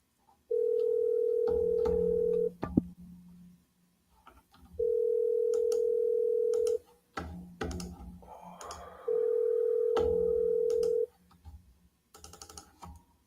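An outgoing telephone call rings back in three long, even tones separated by pauses, clear and close, with faint clicks and handling noise between the rings.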